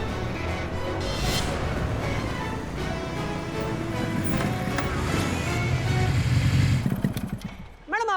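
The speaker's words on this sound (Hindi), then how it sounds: "बाइक की आवाज आ रही है" A motorcycle engine rumbles closer over busy street noise, growing louder toward the end, with voices talking nearby.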